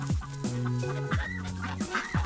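Chickens cluck repeatedly inside a coop shared with ducks and a goose, a busy overlapping chorus of close, rhythmic clucks and short calls with no talking.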